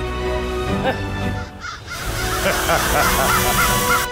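Crows cawing as they are scared off, several harsh repeated calls in an uneven series over a steady background, growing more frequent toward the end.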